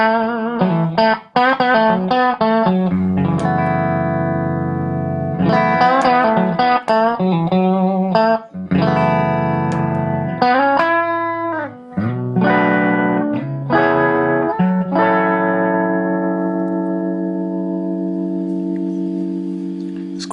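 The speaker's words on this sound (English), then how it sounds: "when you have the depth at 0, you get a bit of breakup" An electric guitar runs through a Shere Sound Whirligig tremolo pedal with depth at zero, giving slight breakup: loud, clear strummed chords and picked notes played alone, ending on a long ringing chord that slowly fades.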